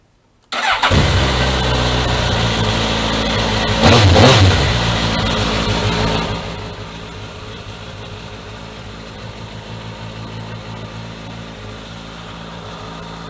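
A Suzuki GSX-S1000F motorcycle engine cranks and fires up with a loud burst, revs briefly, then drops into a steady, quieter idle, close by with no talking.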